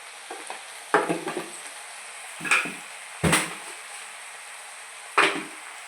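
Spoon scraping and stirring brinjal with dried shrimp curry in a pan, a few distinct clattering strokes spaced irregularly over a faint steady sizzle, with no talking.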